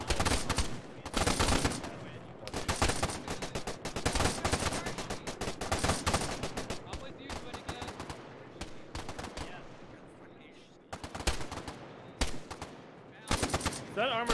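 A CETME rifle fires tracer rounds in ARMA 3 in loud, rapid automatic bursts with short gaps between them, mixed with other gunfire close by.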